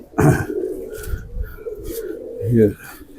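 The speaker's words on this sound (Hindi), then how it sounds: "ये खतंग बेसिक पुराने कबूतर थे" A male khatang pigeon, an Indian breed, coos in a few low throaty bursts close by, with a louder rolling coo near the end.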